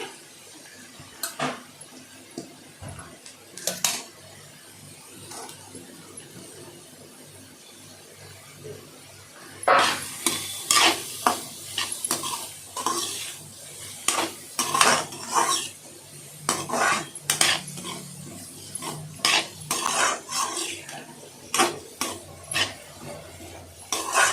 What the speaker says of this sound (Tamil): பீட்ரூட்டை நல்லா கலந்து விட்டுட்டு